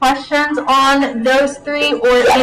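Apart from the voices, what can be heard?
No distinct noise like a dog, phone or traffic.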